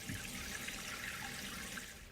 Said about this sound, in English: turn on the water supply valve and the tank will begin to fill